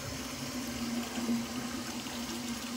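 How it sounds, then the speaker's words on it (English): Indoor tap water running steadily in the background, a constant faint hiss and gush with no one speaking over it. "Excuse the running water there."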